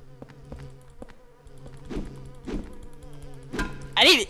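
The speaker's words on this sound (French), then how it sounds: "j'appelle ça des mouches parce que ça fait un bruit de mouche" Buzzing fly-like creatures in the Silent Hill 4 video game drone beneath layered game sounds, with a few thumping impacts and a sharper burst at the end.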